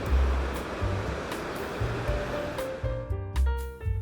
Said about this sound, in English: The first thing that gently accompanies you is the sound of the Lao River.